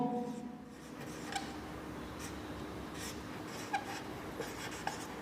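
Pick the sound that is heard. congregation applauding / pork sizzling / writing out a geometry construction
writing out a geometry construction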